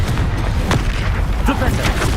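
A Confringo fire spell blasting in the video game Hogwarts Legacy, a loud, dense booming explosion that rumbles continuously, with sharp bursts rising out of the roar.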